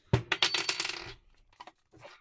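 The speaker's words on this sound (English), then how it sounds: "that noise is the spindle lock key" Spindle lock key on a new Hyper Tough circular saw clicking and rattling, a quick cluster of sharp metallic clicks at close range followed by a few fainter taps, with no talking.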